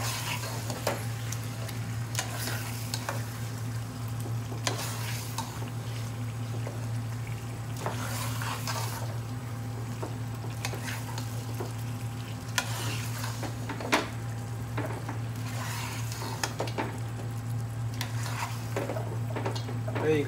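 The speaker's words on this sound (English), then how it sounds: "I need to fry the lamb in the oil and the spices." Lamb chops fry in oil and spices in a pan for a curry, a steady soft sizzle over a constant low kitchen hum, with occasional stirring scrapes and clinks of utensils against the pan, no speech.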